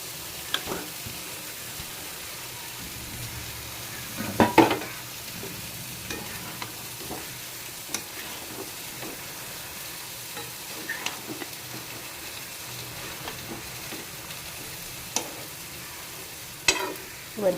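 Marinated chicken and potatoes frying in a pan for a chicken curry, a steady moderate sizzle broken by occasional spoon scrapes and light clinks against the pan.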